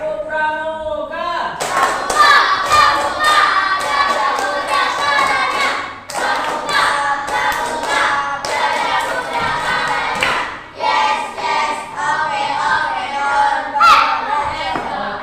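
Classroom of students doing rhythmic Indonesian scout clapping (tepuk pramuka), a loud sustained run of patterned claps and thumps with chanting voices throughout.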